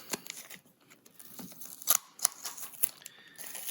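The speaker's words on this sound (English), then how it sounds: "let me get this last bit of the sticker off" A sticker is peeled off the plastic packaging of a Blu-ray case, giving close, quick crackly tearing and scratching bursts with a few sharper snaps, alone without speech.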